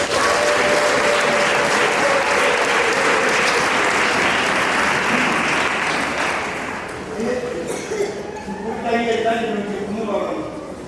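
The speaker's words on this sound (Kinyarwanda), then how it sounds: "Mube Imana amashyi byarakemutse." A church congregation claps and applauds loudly and steadily, with a dense wash of many hands carrying on for about seven seconds before thinning slightly, while some voices and cheers rise beneath.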